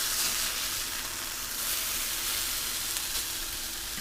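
Homemade hash browns with onion and salt sizzling and frying steadily in a hot pan just after flipping, a continuous loud crackling hiss with no talking.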